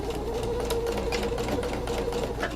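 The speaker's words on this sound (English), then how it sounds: "I'm going to back stitch." Sewing machine back stitching a velvet seam on a witch hat, a continuous fast mechanical whir with rapid needle ticking, close and steady throughout, no talk.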